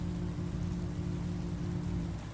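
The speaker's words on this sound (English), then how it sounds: "It's raining." Rain falls steadily in the terraforming game The Planet Crafter, a soft continuous patter under a low ambient hum that holds evenly throughout, with no voices.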